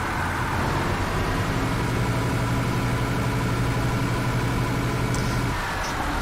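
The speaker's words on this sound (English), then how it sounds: "But what sucks is like the engine on the outside." A bus engine idling in The Bus simulator game, heard from outside on the TXL line in central Berlin: a steady, continuous low hum with a droning tone that holds unchanged throughout, with no voices.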